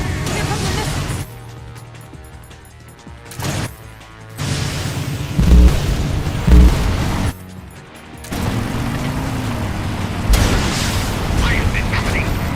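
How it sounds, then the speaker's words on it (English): Incoming missile strikes in Metal Gear Solid Delta: Snake Eater, with repeated heavy booms and crackling blasts between short pauses, loud and close, mixed with voices and game music. "Here come the missiles."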